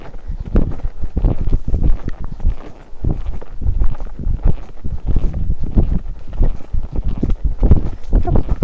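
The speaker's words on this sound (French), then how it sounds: "On fait du petit trot." Hooves of a young horse clip-clopping at a gentle trot, steady rhythmic beats close to the microphone with wind noise and muffled voice along the way.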